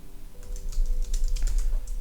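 A terminal command being entered on a computer keyboard, a short run of quick, close key taps, clear and moderately loud, with no talk.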